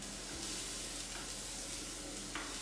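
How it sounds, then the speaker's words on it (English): Steady, dense sizzling of yellow onion frying in a hot pan, with occasional faint scrapes of stirring over the constant hiss. "This is sizzling."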